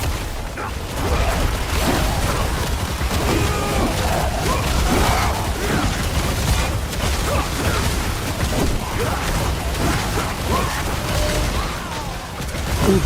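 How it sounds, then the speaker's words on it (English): Explosions and combat effects from the Diablo 4 video game form a dense, continuous barrage of booms, crashes and mechanical clatter, loud and unbroken for the full length with no clear speech. "Ooh, that explosion was almost the end of me."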